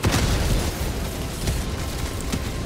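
A tank blowing up in the video game Helldivers 2, a dense, loud rumbling blast that stays heavy for the whole stretch with a second thump partway through and no voices.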